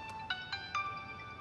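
A mobile phone rings with a bright electronic ringtone, several short repeated tones sounding close and fairly faint against a quiet room, with no talking over it.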